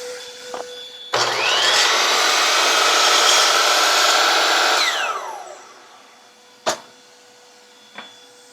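A workshop vacuum dust collector switches on abruptly, roars loudly and steadily for a few seconds, then winds down with a falling whine, followed by a couple of sharp knocks.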